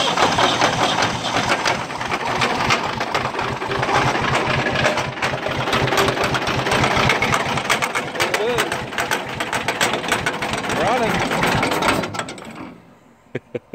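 A Ford 8000 tractor engine with a hole in the block runs steadily at a loud, close idle, its rough mechanical clatter continuing for about twelve seconds before cutting off abruptly into near silence.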